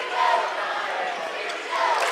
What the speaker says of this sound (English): This place has got a crowd in it.